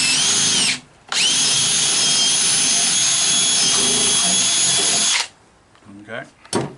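A power drill bores straight through wood for a porch swing, running loud and steady for about four seconds after a brief start, then stopping, with faint handling noise afterward.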